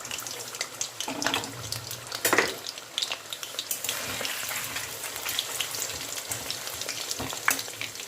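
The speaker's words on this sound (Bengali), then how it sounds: "তেল গরম করে নিয়েছি, এবার আলুগুলোকে ভেজে নেব।" Steady crackling sizzle of potatoes frying in medium-hot oil, with occasional clinks and stirring noises close by.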